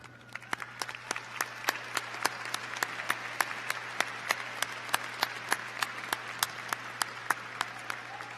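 Applause at a university commencement ceremony in the morning, heard as a fairly sparse, steady run of distinct claps over about eight seconds, with a low constant hum underneath.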